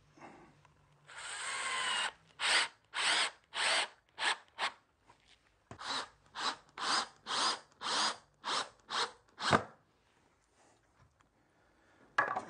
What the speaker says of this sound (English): Because I'm going to screw this, I'm not worried about spreading the glue out evenly.